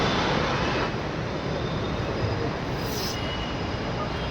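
A metro train runs with a loud, steady broadband rumble and rushing roar, heard from inside or close by, with a brief higher squeal near the end.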